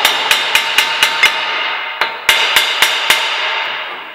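A hammer strikes a Hyundai Tucson brake part, sharp metallic blows, first six evenly spaced, then a pause and five more, loud and close with ringing decay.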